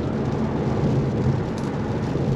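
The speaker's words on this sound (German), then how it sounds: "den Regen erwischt, der vorher gesagt war" Steady rain drums on a car while driving in Romania near Sibiu, a dense broadband wash that stays loud and even, with a possible low rumble of thunder underneath and no talking.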